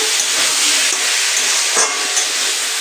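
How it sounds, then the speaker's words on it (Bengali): Masala spices stir-fry in a pan for a paneer dish, giving a steady close sizzle with soft scraping of the stirring spoon running through it, with no talk. "মশলাটা প্রায় কষা হয়ে গেছে।"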